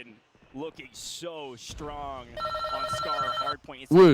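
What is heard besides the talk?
telephone ringing on the Skyline map in Call of Duty, a video game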